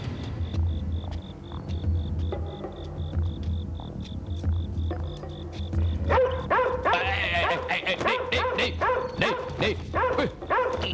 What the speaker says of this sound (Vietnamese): ban đêm mà sủa cái gì? Còn sủa nữa hả?